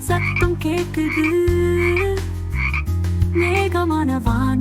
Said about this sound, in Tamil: காற்று மின்னல் மழையில் தவளை சத்தம் கேட்குது.